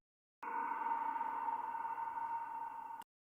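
A sustained synth tone processed with a ping pong delay and reverb in FL Studio plays alone for about two and a half seconds, steady and fairly loud before cutting off abruptly.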